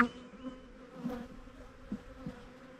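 Honey bees buzz steadily around a brood frame lifted from a hive, a close, continuous drone with small swells in loudness and no voices.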